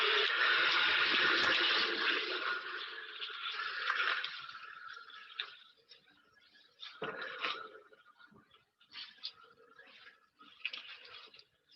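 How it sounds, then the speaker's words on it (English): Howler monkeys call from the Amazon rainforest trees in the late morning: a loud, rough roaring chorus for about five seconds, then shorter, fainter bursts that come and go with gaps between. "this is the sound of howler monkeys calling in the trees"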